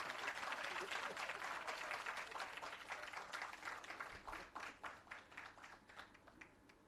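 An audience claps at an employee service awards ceremony marking a trade board's 40th anniversary. The dense applause starts full and thins toward the end into separate claps, heard fairly faint and without talk.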